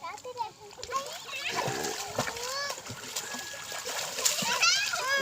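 A village boy swims with a tube, splashing and sloshing water in uneven bursts close by, with a voice and adult talking over the splashes.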